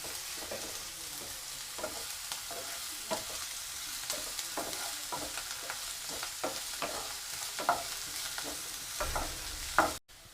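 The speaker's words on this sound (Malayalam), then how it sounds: "ഒരു ചെറിയൊരു ബ്രൗൺ കളർ ആകുന്നത് വരെ നമുക്ക് നെയ്യിലിട്ട് നന്നായിട്ട് നമുക്കൊന്ന് മൂപ്പിച്ചെടുക്കണം" Broken wheat roasting in ghee in a pan for upma, a steady soft sizzle with repeated scraping stirs of a spoon throughout, close and fairly quiet, a louder clatter near the end.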